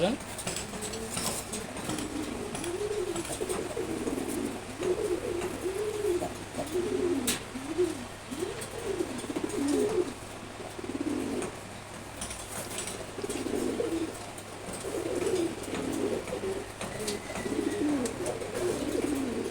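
Close, continuous cooing from a pair of friendly pigeons, low throaty phrases repeating in quick succession with a few wing flutters and a steady background hum.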